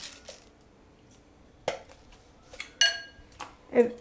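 A metal spoon clinks against a bowl while mixing salt and sugar into half a litre of water, with a few sparse, sharp taps and scrapes separated by quiet gaps, close by.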